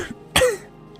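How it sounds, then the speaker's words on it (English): A man coughs into his hand, a single short, muffled cough, close and alone against quiet. "Rondo coughed into his hand and nodded."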